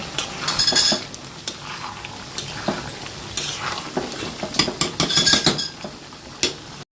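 A spoon scrapes and clinks against a pot as tomato is stirred into a sizzling curry, with irregular bursts of metallic scraping over a steady frying hiss and no voices.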